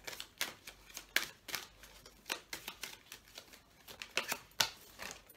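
A deck of cards being shuffled by hand at close range, with rapid riffling bursts and snapping flicks that come in an irregular rhythm, with no talking.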